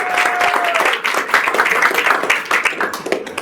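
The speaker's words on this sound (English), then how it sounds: "You can clap that." Applause at a WJCU radio hall of fame induction ceremony, a steady burst of clapping from the audience lasting a few seconds, with a brief tonal whine at the start.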